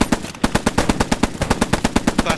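Rapid volley of rifle shots from an infantry platoon firing on command during a training event, sharp cracks repeating in a steady fast rhythm for a couple of seconds, loud and close.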